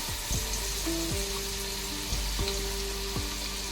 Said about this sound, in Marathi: टोपात तेल टाकलेलं आहे आता आपण यामध्ये लसूण टाकणार आहोत